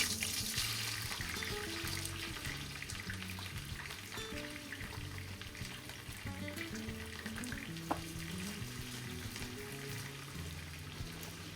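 Chopped onion fries in vegetable or sunflower oil in a pan, giving a quiet, continuous sizzle and crackle with faint stirring, no voices.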